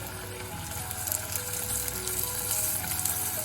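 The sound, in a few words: asparagus sautéing in a pan with butter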